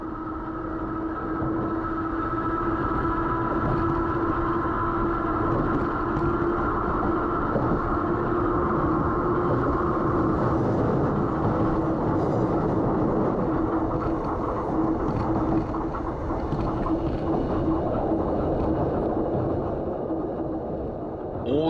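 A vintage Taisho-era electric train on Japan's Kotoden line rumbles steadily across a Taisho-era iron bridge for the whole stretch, a sustained rolling clatter and hum with no talking.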